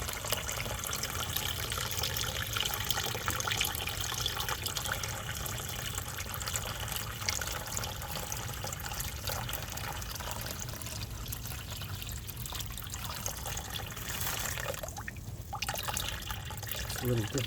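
Water sloshes and pours steadily while ash for an Omotesenke-style tea hearth is washed, a continuous close wet churning with trickling, and a person speaks over it at times.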